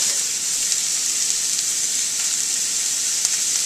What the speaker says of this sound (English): we're going to add our onions and our peppers